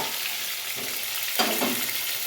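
Pointed gourd (potol) pieces sizzle steadily in hot oil, a continuous broadband frying hiss with a soft stir midway, close and moderately loud with no talking.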